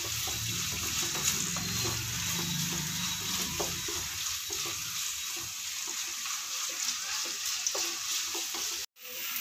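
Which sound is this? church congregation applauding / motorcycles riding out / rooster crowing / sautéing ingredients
sautéing ingredients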